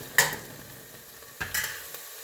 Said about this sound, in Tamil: இது வந்து பச்சை ஸ்மெல் போகிறது வரைக்கும் வதக்கணும்